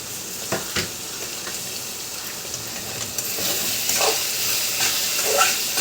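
Coriander leaves, curry leaves and green chilies sizzle in a hot pan, a steady hissing fry with a few sharp crackles and stirring clinks, growing slightly louder toward the end.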